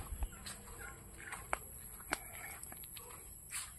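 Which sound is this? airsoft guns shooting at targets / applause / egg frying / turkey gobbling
turkey gobbling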